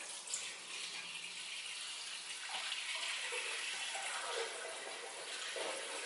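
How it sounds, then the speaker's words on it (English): Engine oil draining from the sump of an Isuzu MU-X 4WD during servicing, a faint continuous liquid trickle and splash into a container, steady throughout with no talk. "So I'll let that drain for about, you know, 15, 20 minutes"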